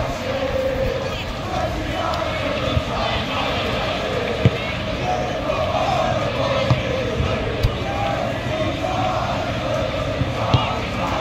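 A dense stadium crowd roars steadily throughout a PES 21 football match between Nottingham and Manchester United, with small swells and sharp peaks rising over a constant wall of noise.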